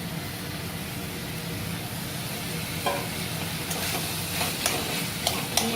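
Mashed boiled potatoes frying in oil in a pan give a soft continuous sizzle, with a few scraping stirs toward the end.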